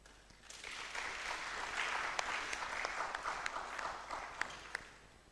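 An audience at a fish product launch event applauds for a minister, sustained clapping swelling and holding steady with a few sharper individual claps, heard at moderate distance.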